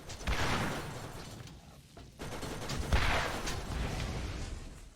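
Rocket launcher fire in Borderlands: Game of the Year Enhanced, aimed at turrets: two booming, whooshing blasts a couple of seconds apart, each trailing a long rumbling tail over continuous game noise.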